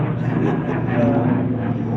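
A helicopter flies over a backyard in Los Angeles, a steady droning engine and rotor rumble that stays loud and continuous throughout while people talk underneath.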